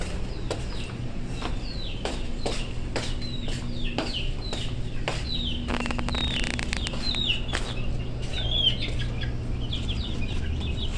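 Backyard chickens in a coop cluck and call repeatedly, with sharp chirps and small bird calls scattered throughout over a steady outdoor background.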